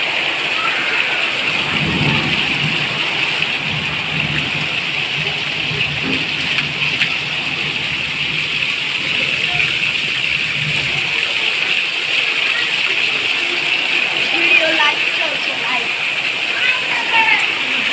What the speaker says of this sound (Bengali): দেখেন কি পরিমাণ পানি, আল্লাহ রহমতের পানি, কি পরিমাণ পানি ঝর্ণার মতো পড়তেছে।